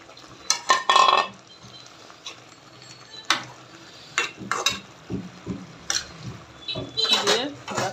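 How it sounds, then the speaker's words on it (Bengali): Peas and potatoes stirred in a cooking pot for a spinach and potato fish curry, giving intermittent scraping and clinking of a utensil against metal in irregular bursts, fairly close. "মটরশুঁটি আলুগুলো দিয়ে নাড়াচাড়া দিয়ে দিব"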